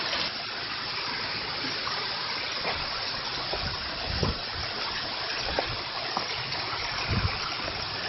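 A river on a nature hike rushes past rocks as a steady, broadband wash of flowing water, fairly faint and continuous, with a few small splashes and no talking.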